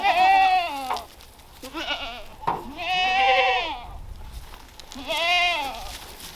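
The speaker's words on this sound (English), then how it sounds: "So let me show you the goats real quick." Goats on a meat-goat farm bleat loudly in several overlapping wavering calls, close by, gathered around a blue bucket they expect holds food.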